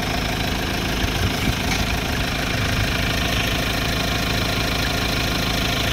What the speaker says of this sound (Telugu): ఒక్కసారి చూడండి ఇంజిన్ సౌండ్ అనేది.